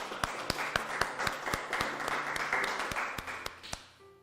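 An audience applauds in thanks during a church Sunday worship service at a university church, sustained clapping filling a hall for about four seconds before tapering off, with a few sharper individual claps standing out.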